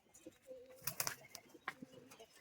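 Old-bloodline Giribaz pigeons coo faintly while wings flap and clatter in a few sharp bursts, close and quiet overall.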